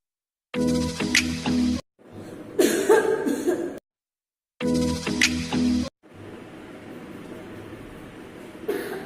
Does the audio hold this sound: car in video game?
no